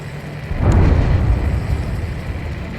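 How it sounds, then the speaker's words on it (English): A deep underwater explosion in the combat flight game Ace Combat 7 swells into a loud, sustained low rumble that lingers for a couple of seconds over steady background game noise. "A huge explosion just went off underwater."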